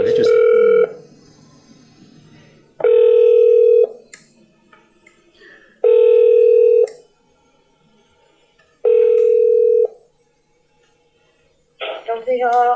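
Telephone tones while a call is placed: four long, loud steady tones at regular intervals with short pauses between them, followed by a brief burst of other sound at the end.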